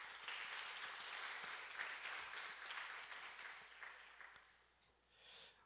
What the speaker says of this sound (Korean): 모두에게 박수를 돌립니다.